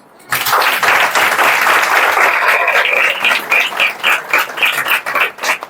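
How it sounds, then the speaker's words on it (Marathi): Applause from a student audience at a school event in Maharashtra bursts in and runs steadily, then thins into scattered, uneven claps toward the end, with no voices over it. "आत्ता जराशा टाळ्या आल्या"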